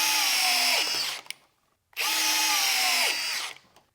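Hilti cordless 12V-class screwdriver spinning at speed 2, a loud steady high whine in two bursts of about a second each, each winding down as the trigger releases, with a short pause between them.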